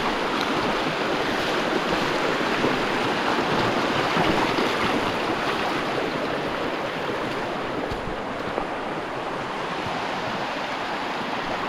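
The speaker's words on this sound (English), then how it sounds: "This is crossing the same river I did before." Boots wading across a river on a West Coast hike, the steady rushing of flowing water filling the scene loudly and continuously, with splashy churning close by and no voices.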